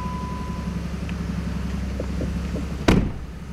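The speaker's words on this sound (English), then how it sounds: "Start up this Jeep Liberty Sport. It sounds real good." The engine of a Jeep Liberty Sport idles steadily after start-up with a low, even rumble, broken near the end by one sharp close thump or knock.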